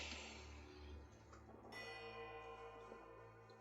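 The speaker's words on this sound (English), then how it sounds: "The ring of a bell comes to you on a cold wind." Bells ring out in the Pillars of Eternity II: Deadfire game, a steady peal of sustained metallic tones building after a chime, layered over a low ambient drone with no talking.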